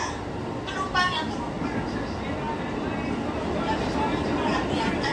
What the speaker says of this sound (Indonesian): Saat ini Anda berada di KRL Commuter Line tujuan Cikarang